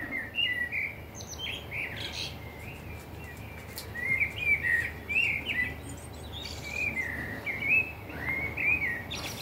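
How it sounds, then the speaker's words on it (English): A blackbird sings in a garden on a cold day, with repeated clear whistled phrases at a moderate distance over a steady background hiss and faint insect-like chirps. "Blackbird's singing up there somewhere."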